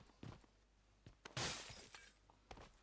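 Glass shatters in a sharp, bright burst in the middle of a quiet indoor scene, with a few smaller clinks and knocks before and after the main crash.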